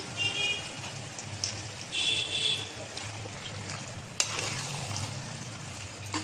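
Steady rain falling outdoors on a cold day, a continuous close patter with occasional soft taps, heard alongside faint cooking sounds as beef is stirred into a pot for khichuri.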